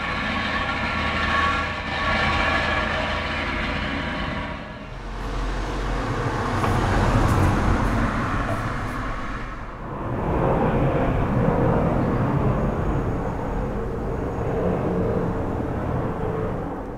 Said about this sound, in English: There was a jackhammer, a car going by, and a plane going overhead.